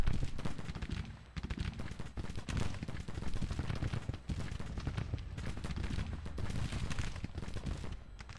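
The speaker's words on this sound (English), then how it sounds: "Artillery over there." Civil War artillery and musket fire from the Grand Tactician strategy game roars as a dense, continuous battle din with repeated booms and crackling volleys, loud and unbroken.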